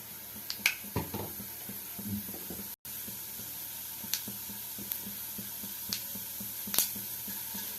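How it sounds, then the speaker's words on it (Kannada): Mustard seeds splutter in hot oil with scattered sharp pops over a faint steady sizzle, close by and quiet, with one brief dropout. "ಸಾಸಿವೆ ಸಿಡಿಯುವಾಗ"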